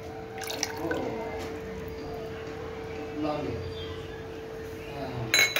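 Cold water trickles and drips steadily into a vessel for kokum solkadi, with a faint steady hum underneath and a brief clink of metal near the end.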